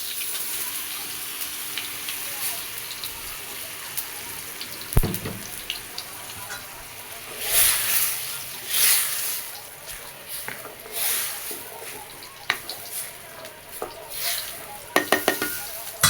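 Onions and tomatoes frying in a pan, with scattered stirring scrapes and clinks over a soft sizzle and a few brief watery bursts, fairly quiet and close, no talk.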